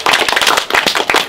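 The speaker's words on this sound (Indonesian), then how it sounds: "Tepuk tangan dulu buat hari ini." A film crew on the first morning of a series shoot breaks into brisk group applause, a dense, close burst of many hands clapping with no talk over it.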